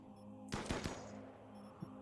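Gunfire in the video game RimWorld: a quick burst of three sharp shots, then a softer single report, over a steady low background hum.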